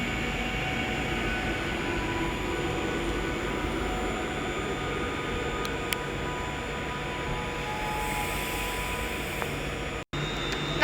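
An Avanti West Coast train at Stafford station on the West Coast Main Line, a steady broad rumble of rail noise with faint high tones, continuous and fairly close, with no talk.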